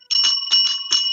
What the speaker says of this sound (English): Ring that bell. Double bell.